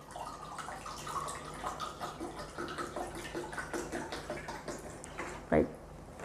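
Alkaline Kangen water is poured in a soft, continuous trickle with faint splashing, ending in one brief louder splash near the end.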